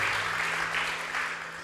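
Short burst of a church congregation clapping during preaching, a continuous mass of hand claps in a few soft surges over a faint steady low hum.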